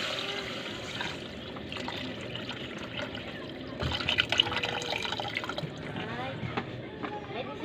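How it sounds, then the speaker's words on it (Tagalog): Water is poured into a cooking pot for tinola chicken soup, a close trickling and splashing that swells midway, with people talking over it. "Lagyan natin ng tubig."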